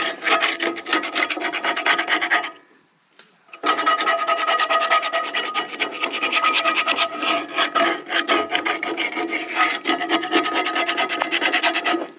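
A cast iron skillet is scrubbed in quick back-and-forth strokes, a close, rasping scour that pauses briefly for about a second and then resumes steadily. No one speaks.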